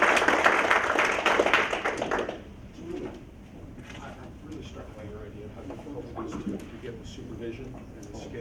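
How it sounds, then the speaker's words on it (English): Audience applause at an innovation summit, a dense burst of clapping for about two seconds that cuts off into quiet room noise with faint murmuring. "Let's give a big round of applause."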